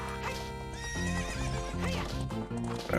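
A horse whinnies loudly over steady clip-clopping hooves and game music in Ocarina of Time, the neigh rising and falling near the end.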